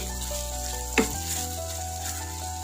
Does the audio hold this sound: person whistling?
no